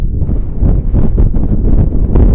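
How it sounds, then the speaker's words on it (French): Strong wind buffeting a microphone beside a river while fishing for catfish, a loud, continuous low rumble with gusty pulses and no voices. "Le vent est terrible."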